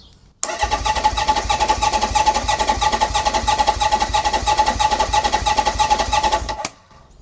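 A custom Honda CB750 café racer engine cranks steadily on the starter during a compression test with the throttle held open, a loud, even, rapid churning that runs for about six seconds and then stops.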